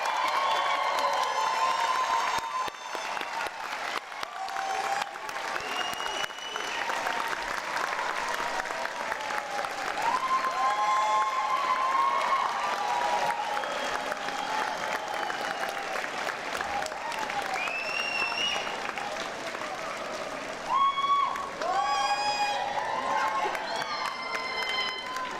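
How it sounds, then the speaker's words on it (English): Sustained applause from a large crowd at a graduation ceremony, loud and continuous throughout, with scattered cheers and voices mixed into the clapping. "give a round of applause for all of those people here who have helped and inspired you"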